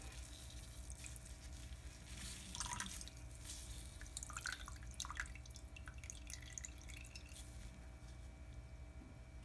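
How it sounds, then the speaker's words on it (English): Whey drips and trickles faintly from freshly strained wagashi cheese curd in Ghana, with scattered small splashes and soft wet squishes over a low, steady background hiss. "this is after straining the water from the actual curd"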